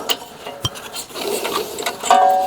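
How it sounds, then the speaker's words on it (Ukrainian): Bolts being loosened on a tiller's plough attachment after long disuse: a few sharp metallic clicks and ticks, ending in a brief squeak as a fastener turns, close and clear with no speech. "Давненько я ці гвинти болти не відкручував"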